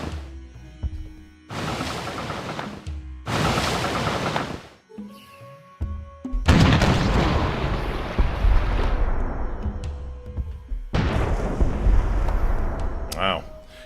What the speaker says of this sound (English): It's kind of a satisfying sound those cannons make.